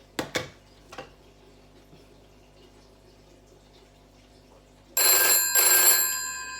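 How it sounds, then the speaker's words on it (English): A GPO extension plan telephone rings its bells on an incoming call, two bright metallic trills near the end after a few soft clicks and knocks in a quiet room. "There you go, one bell ringing there and two bells ringing"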